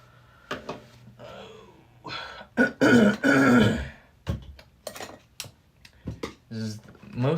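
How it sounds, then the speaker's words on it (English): Throat clearing from allergies, a few rough guttural bursts close up, interspersed with other movement noises in a quiet room. "This is just a YouTube channel where I clear my throat a bunch because of allergies."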